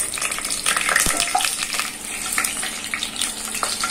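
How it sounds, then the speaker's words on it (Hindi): Whole garam masala — cardamom pods, cinnamon pieces, a bay leaf, cloves and black peppercorns — fries in hot oil in a pan for a mugdal beef curry, giving a steady close crackling sizzle with a few sharper pops, no talk. "गरम मसला गुले कयेक सेकेंड तेलेर मध्ये हल्का एकटु भेजे निएछि"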